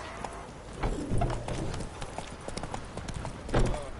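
Horse hooves clip-clop steadily on the ground as a rider travels in The Witcher 3: Wild Hunt video game, close and continuous for a few seconds with a slight swell near the end.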